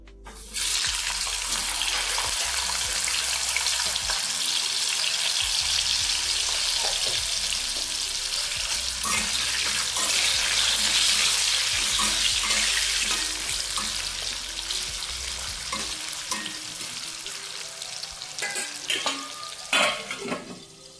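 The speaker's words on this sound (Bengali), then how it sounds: "এবার আমি একই তেলে কাঁচা কলাগুলো ভেজে নেব।" Raw plantains fry in oil, a loud dense hiss and crackle that runs nearly unbroken for about twenty seconds, with occasional clinks near the end.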